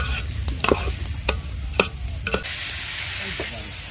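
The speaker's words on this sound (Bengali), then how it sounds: "পোলাও চাউল ভাজা হচ্ছে।" Polao rice frying in a pan with a continuous sizzle, punctuated by sharp scraping clicks of stirring that come in quick irregular bursts before the sizzle settles into a smoother hiss.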